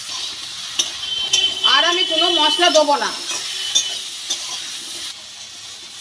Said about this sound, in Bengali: হলুদ লবণ দিয়ে সবজিগুলোকে খুব ভালো করে ভেজে নেব।